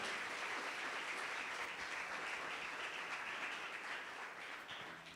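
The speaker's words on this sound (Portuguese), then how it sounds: "Vamos aplaudir ao Senhor, aleluia" A church congregation bursts into sustained applause, dense steady clapping from many hands filling the room at a constant level before easing slightly at the end.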